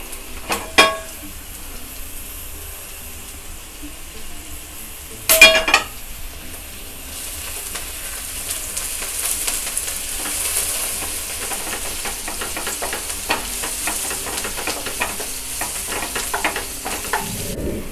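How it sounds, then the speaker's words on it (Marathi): Butter and oil frying in a hot pan for paneer mushroom masala, a steady loud hiss and sizzle broken by a few sharp clanks of a utensil against the pan, with stirring scrapes toward the end. "मी हे बटरवर फ्राय करणार आहे. पण त्यासाठी आधी थोडंसं आपण तेल घालूया"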